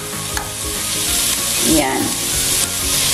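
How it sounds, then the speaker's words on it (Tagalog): Ground beef hitting a pan of sautéed garlic and onion, frying with a steady loud sizzle while a spoon stirs and scrapes through it; a brief word is spoken partway through. "ilagay na rin natin yung ating beef o yung ating giniling na karne"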